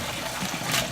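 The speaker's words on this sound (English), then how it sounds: "So we're just gonna pour everything in." Soaked sea moss and its water poured from a pot into a colander, a brief close rushing splash of liquid lasting under a second, with no talk.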